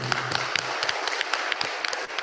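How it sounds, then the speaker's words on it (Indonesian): Scattered applause from a crowd, a steady patter of clapping hands with a few louder claps standing out, brief and moderately loud. "Tepuk tangan untuk Giswa."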